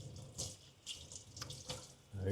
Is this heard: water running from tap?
yes